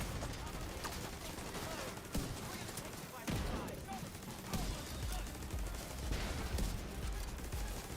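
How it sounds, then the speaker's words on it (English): Automatic weapon fire from The Division 2 rattles in rapid repeated bursts against an NPC, mixed with sharp impacts and game music, with a person talking over the shooting. "I'm still trying to hit that NPC's body and I'm missing all these shots"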